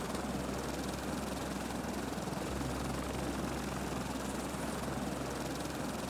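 A gyrocopter flies in the video game Stranded Deep, a steady loud droning rotor and engine hum with rapid chopping pulses, continuous and unbroken throughout.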